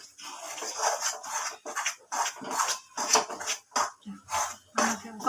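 A spoon stirs and scrapes thick Mysore pak mixture of gram flour, ghee and sugar with cardamom powder in a pan, giving repeated clinks and scrapes in a steady rhythm, close and moderately loud.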